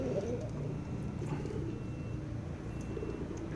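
Crested pigeons coo in a steady, low murmuring rhythm that fills the whole stretch, with faint chirps above and a constant bed of background noise.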